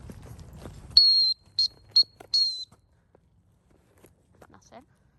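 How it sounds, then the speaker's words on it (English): Dog training whistle for two dalmatians on a rainy walk, blown in four shrill, steady high-pitched blasts close by: a long one, two short ones, then another long one, each separated by brief pauses, with faint talk before it. "test the whistle now."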